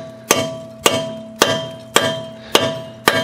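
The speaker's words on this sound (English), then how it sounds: "You really got to hammer it on there." Six sharp metallic hammer blows drive a 19 socket onto a nut on a 2010 Nissan Sentra at an even pace, each a bright clang with a short ringing tail.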